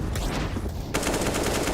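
Pistol fire in a Counter-Strike match, a dense rapid rattle of gunshots that grows sharper and louder partway through, with no talk over it.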